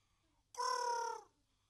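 A spotted dove gives a single short harmonic call of about two-thirds of a second, fairly clear against a quiet background with no talking.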